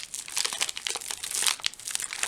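Crinkly plastic ration pack packaging being rolled up by hand, a close run of sharp crackling and rustling crinkles in irregular bursts, with no talking.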